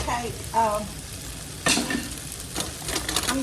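Beef stew meat sizzles loudly as it browns in a frying pan, a steady close crackle broken by a few stirring scrapes and soft knocks.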